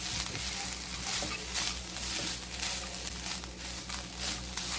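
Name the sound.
grated coconut being roasted and stirred in a pan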